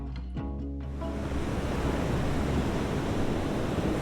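Ocean waves wash steadily onto a white-sand surf beach at Maloba in Sumba, a broad continuous roar of surf, loud and close, alone after a brief low rumble at the start.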